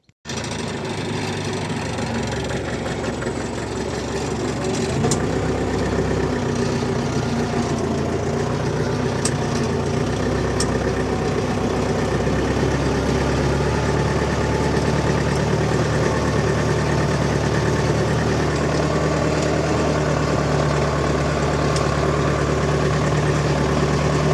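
A Skaut 404 tractor engine runs steadily while ploughing with a Kverneland plough in damp field conditions, giving a continuous, loud drone close by with occasional faint knocks and no talking.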